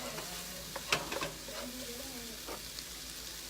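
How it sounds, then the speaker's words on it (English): Minced garlic sizzles and fries in a pan for a Thai-style cauliflower shrimp fried rice, with a steady low crackle broken by a few sharper clicks of stirring, fairly quiet and close. "I'm going to add in a little more minced garlic."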